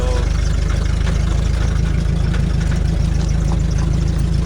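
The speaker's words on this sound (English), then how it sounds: "this is a 32 Ford Roadster, a B engine, 4-cylinder, flathead" A 1932 Ford roadster's four-cylinder Model B flathead engine rumbles continuously nearby as the car rolls along, a steady low throbbing drone with no talking.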